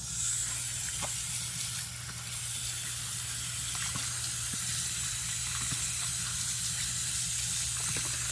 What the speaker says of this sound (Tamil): இதை இப்போது வாஷ் பண்ணிக்கலாம்